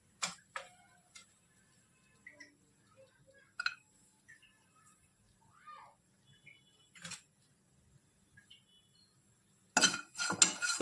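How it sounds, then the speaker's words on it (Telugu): Dry coconut pieces tumble and rattle in a pan with ghee, a spatula giving sparse clinks and ticks separated by quiet gaps, ending in a louder burst of scraping, close with no talk. "నేను మీకు చూపించిన కొబ్బరి ముక్కలన్నీ వేసేస్తున్నాను."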